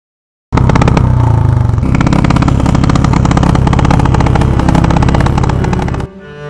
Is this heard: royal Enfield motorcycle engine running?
yes